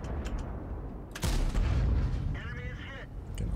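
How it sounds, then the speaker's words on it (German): A tank cannon firing in World of Tanks: one sharp, heavy boom with a rumbling tail, heard close amid continuous battle noise and engine rumble, while someone talks over the game. "Und da schon sofort einen Schuss austeilen."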